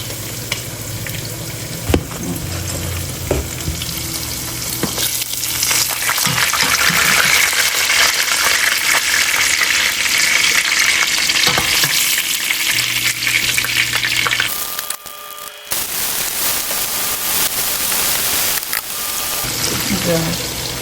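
Pork chops fry in a pan with a loud, dense, continuous sizzle and crackle, briefly dropping out once before returning at full strength.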